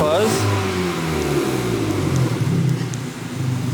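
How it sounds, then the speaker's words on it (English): A BMW 125i with an upgraded exhaust and downpipes revs up, the engine tone rising then held and falling, loud and close with a voice talking over it. "Give it a rev"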